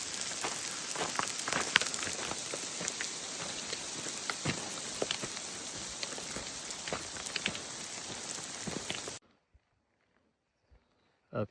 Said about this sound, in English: It's crazy, look at all that hail.